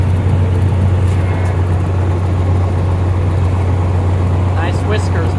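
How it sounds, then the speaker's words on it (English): Feed truck engine idling loud and steady in polar-vortex cold, a constant low rumble throughout with faint higher squeaks near the end as the door opens; people talk over it. "This feed truck takes forever to open the door when it's so cold."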